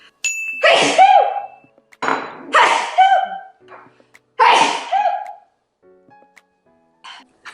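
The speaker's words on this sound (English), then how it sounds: "I have to sneeze." Three loud, close sneezes in a row, each a sharp burst with a short gap between, followed by faint breathy sounds.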